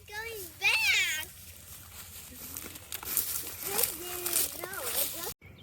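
A cat gives a drawn-out meow, then a second shorter one later, among light background noises.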